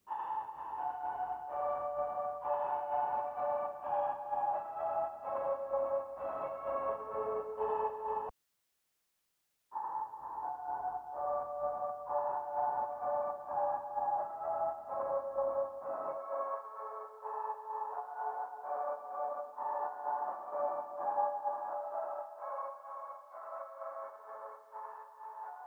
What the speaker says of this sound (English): create my own unique reverb pad that I can use anywhere in my songs